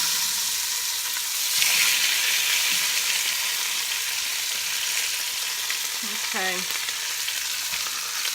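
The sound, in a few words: pork chops sizzling in grease in a pan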